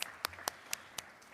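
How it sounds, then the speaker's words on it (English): At an education summit on preventing school dropouts, a few sharp, isolated handclaps ring out at a slow, even pace, five distinct claps standing alone against a quiet room. "Please give them a round of applause."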